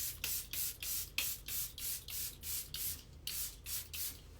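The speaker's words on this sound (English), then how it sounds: "You spray yourself so that you don't look powdery as hell." A makeup setting spray mists repeatedly over a finished face, about a dozen short, close, evenly spaced hissing bursts in a steady rhythm, with no talking.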